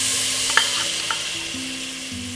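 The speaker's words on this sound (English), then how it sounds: "I have a medium-sized pot on the stove. Then first of all, what you're gonna basically you're gonna do is to melt the butter." Butter melting in a medium-sized pot on the stove, a soft steady sizzle and hiss with a couple of brief stirring clinks, heard alone without talk.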